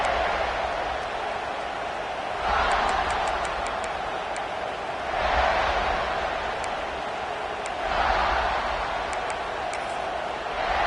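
Crowd noise fills a football stadium during a game, a steady distant roar with swells every few seconds, scattered faint ticks on top.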